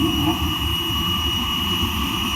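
A drag-racing jet car's jet engine roars continuously at a dragway, loud and steady, with a deep rumble and a high sustained whine.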